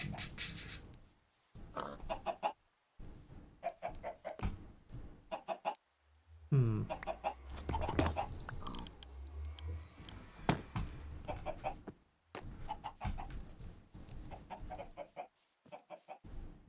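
Chickens cluck in a Minecraft game in repeated short, bright clucks, moderately loud, with gaps and a low thump partway through.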